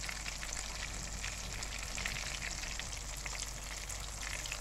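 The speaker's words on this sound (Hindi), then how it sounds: "इसको हमने इतना पकाना है, इतना फ्राई करना है कि ये अंदर से अच्छी तरह से टेंडर हो जाए।" Fish frying steadily in a pan over a medium-low flame, a soft continuous sizzle with a faint crackle, close and alone with no talk.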